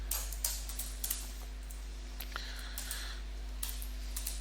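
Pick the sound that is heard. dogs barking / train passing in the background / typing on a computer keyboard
typing on a computer keyboard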